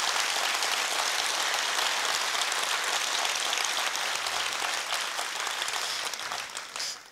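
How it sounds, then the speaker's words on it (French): A forum audience at the Positive Economy Forum in Le Havre gives warm applause: loud, dense clapping from many people that holds steady, then thins and fades toward the end. "je vous demanderai de les applaudir chaleureusement"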